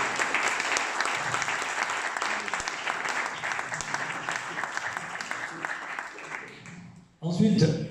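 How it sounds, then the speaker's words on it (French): A hall full of people gives journalists a long, even round of applause at a press prize ceremony honouring a newspaper newsroom. The clapping is dense and steady for about seven seconds, then a voice starts talking. "j'aimerais encore que vous les applaudissiez beaucoup"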